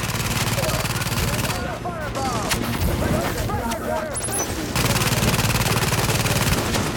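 A deployed turret in The Division fires loud, sustained automatic bursts, nearly continuous with a short lull in the middle, while players talk over the din.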